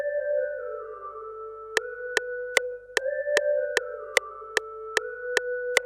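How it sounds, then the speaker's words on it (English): A synth lead pattern in a trap beat plays sustained, gliding two-note tones that repeat. Sharp, evenly spaced ticks join partway through and keep a steady pulse beneath the melody. "Then I added this lead pattern."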